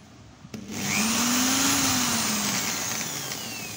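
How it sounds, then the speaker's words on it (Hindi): An electric drill motor spins up after a short click and whines steadily at full speed, loud and close, with no voices. "मैंने तार लगा दी ड्रिल मशीन की"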